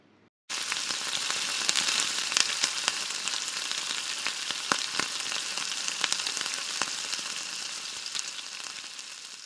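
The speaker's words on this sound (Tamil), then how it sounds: "ஆயில் நல்லா சூடானதுக்கப்புறம் நம்ம ரெடி பண்ணி வச்ச சிக்கனை போட்டு நல்லா ஃப்ரை பண்ணி எடுத்துக்கணும்" Pieces of chicken frying in hot oil on a tawa give a close, dense crackling sizzle that begins abruptly and carries on evenly with popping spatters, with no voices.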